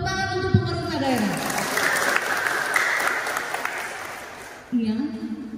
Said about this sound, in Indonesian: Tepuk tangan untuk pemerintah daerah